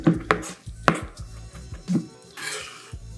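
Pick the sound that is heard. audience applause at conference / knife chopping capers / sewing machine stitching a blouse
knife chopping capers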